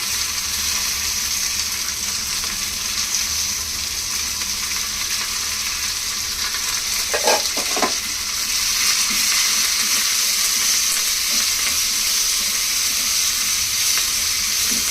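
Large chunks of tomato sautéing in a pan keep up a loud, continuous sizzle and hiss, with a couple of brief spoon scrapes partway through, close up and without speech.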